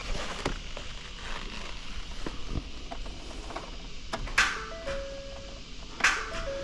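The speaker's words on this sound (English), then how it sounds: "I'm just going to see if it'll crank now." A Ford F150 with a 5.4 engine fails to crank, giving two sharp starter clicks a couple of seconds apart, each followed by short electronic chime tones over a low background hum.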